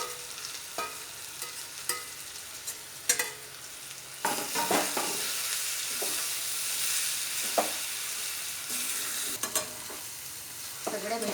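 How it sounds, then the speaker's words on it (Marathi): Grated onions with Kashmiri red chili being stirred and sautéed in a pan for Khandesh-style onion chutney, a steady close sizzle broken by repeated scraping stirs, with no talking. "आपण आता त्याच्यात थोडं परतवून घेऊ आणि त्याच्यात खरचवलेले कांदे घालू"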